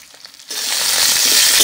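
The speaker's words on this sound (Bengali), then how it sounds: "আলু বেগুনগুলো ভালো করে ভাজা হয়ে গেছে" After a quiet moment, potatoes and aubergine start a loud, close crackling sizzle in mustard oil that holds steady and bright to the end.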